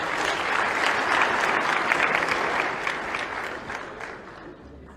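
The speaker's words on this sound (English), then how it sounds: "Round of applause, please." Audience applause fills a hall at an evening speech event honouring a minister, a dense steady clapping from a large crowd that holds for several seconds, then gradually thins and fades toward the end.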